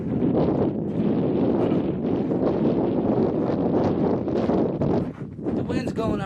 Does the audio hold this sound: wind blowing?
yes